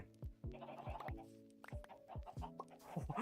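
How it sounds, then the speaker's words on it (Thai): Chickens in Minecraft 1.21.8 cluck in a quick series of short, fairly quiet calls, some overlapping, in an uneven rhythm. "อ้ย ไก่เต็มเลย"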